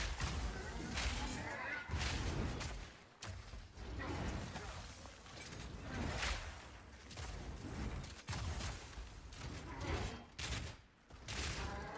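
Grenades exploding in a video game campaign, a dense string of sharp bangs and cracks repeating every second or so, loud and close, with busy game noise between the blasts.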